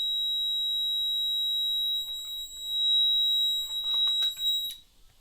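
A home security alarm set off by its gas sensor sounds a steady, piercing high tone, close and loud, which cuts off near the end amid faint handling noises.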